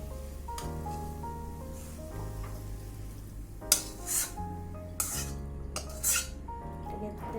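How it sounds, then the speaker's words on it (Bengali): Cooked vegetarian taro leaves are scooped from a pan into a bowl with the gas turned off: several scraping clinks of a utensil against the pan, spaced across a few seconds over steady background music. "এবারে একটা বলে ঢেলে নেব"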